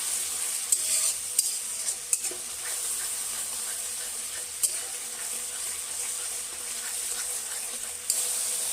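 Masala is stirred through hot oil in a pan for a fish curry, a steady sizzle and fry with a few sharp clicks of the spoon against the vessel. No one speaks.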